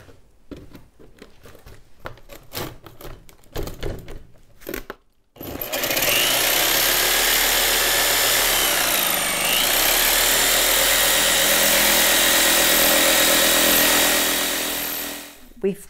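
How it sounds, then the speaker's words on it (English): A power tool cuts a circle out of Wedi Board with a loud, steady grinding whine lasting about ten seconds, preceded by short knocks and handling sounds with talking. "I'm going to finish up cutting this circle out."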